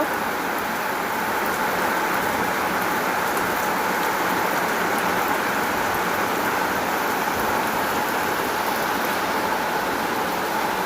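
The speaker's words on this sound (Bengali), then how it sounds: "কতটা পরিমাণে মুষলধারে পুরো বৃষ্টি হচ্ছে।" A torrential rainstorm pours down in a loud, constant roar, with the steady hiss of heavy rain filling the whole stretch and no talking.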